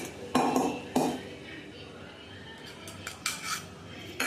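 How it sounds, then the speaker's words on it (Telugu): Spices and peanuts are stirred in a metal cooking pot, a few sharp clinks and scrapes of a utensil against the pot, close and spaced out, with quiet kitchen background between them. "ఫస్ట్ కొంచెం మిక్స్ చేద్దాం"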